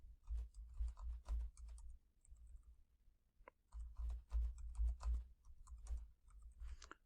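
Keys tapped on a computer keyboard while a wireless network passphrase is entered, two bursts of quick, soft clicking separated by a short pause, close and with no talking.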